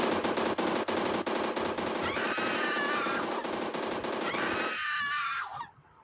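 Rapid automatic gunfire from a machine gun in a video game, a dense, loud, continuous rattle of shots for several seconds, with a steady tone layered in midway, stopping abruptly near the end.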